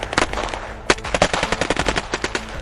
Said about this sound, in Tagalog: Alingaw-ngaw ng putok ng barel.